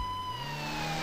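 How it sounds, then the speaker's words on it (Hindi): Police car siren from the Indian Bike 3D video game on a mega ramp, a steady electronic wail sliding slowly in pitch over a low engine hum, continuous and fairly close with no talk. "सामने से आ चुकी है भाई पुलिस की गाड़ी"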